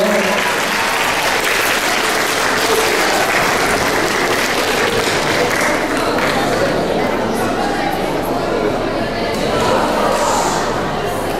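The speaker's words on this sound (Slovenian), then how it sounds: "En močen aplavz, prosim, za gostitelje" A loud, sustained round of applause from an audience for the hosts of a school cycling-safety project event, continuous throughout with some chatter mixed in.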